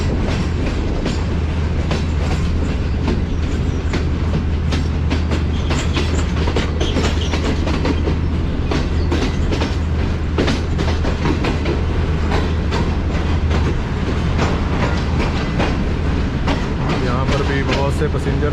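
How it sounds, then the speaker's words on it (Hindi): The Sir Syed Express pulls into Gujrat railway station in Pakistan, with loud continuous rumble and clattering wheels on rails, a steady low drone and a platform din throughout, with voices mixed in. "4:40 पे हमारी ट्रेन पहुंच चुकी है गुजरात रेलवे स्टेशन पे"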